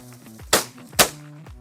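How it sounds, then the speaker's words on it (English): Two sharp shotgun blasts about half a second apart from a Fabarm Elos shotgun fired from the hip at chukar while upland hunting outdoors, each a loud crack with a quick fade. "we're gonna try some hip shooting"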